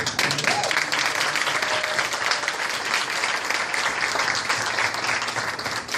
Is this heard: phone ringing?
no